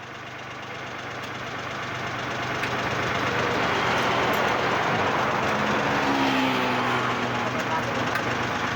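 A Kubota L240 two-cylinder 24 hp tractor engine churns and rattles continuously without catching, a loud mechanical grind that builds and holds, with people talking nearby.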